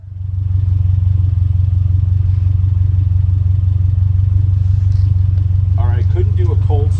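Loud, deep warm idle of a 2022-or-later Subaru WRX engine with a PLM axle-back exhaust giving a throaty, rumbling note, steady throughout, and a person speaking briefly near the end.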